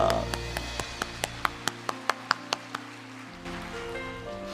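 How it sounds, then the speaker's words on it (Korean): A church congregation at an autumn special dawn prayer service claps in unison, about a dozen sharp, evenly spaced claps over sustained keyboard chords, then fading as the music continues. "우리 주님께 영광의 박수 올려드립니다"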